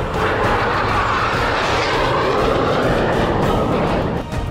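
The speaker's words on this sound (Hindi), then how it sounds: "अपने सबसे बड़े न्यूक्लियर बॉम्बर TU-160 को बेरेंट सागर के ऊपर उड़ाया है" Tu-160 nuclear bomber flying over the Barents Sea, a loud steady broadband jet roar that holds continuously throughout without any talk.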